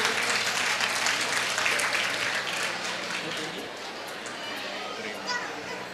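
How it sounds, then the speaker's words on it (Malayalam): Audience applause at a family gathering, a dense wash of clapping that swells early and then eases slightly, with children's voices and chatter mixed through the crowd noise. "ഒരു നിറഞ്ഞ കയ്യടി ഇവർക്ക് കൊടുക്കില്ലേ?"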